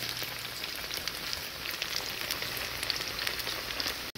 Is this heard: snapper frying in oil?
yes